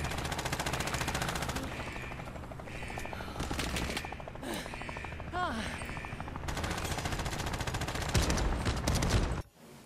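Lost Light shooter gunfire rattles in long, loud automatic bursts, close and relentless, with brief gaps and a few voices speaking underneath before it cuts off abruptly.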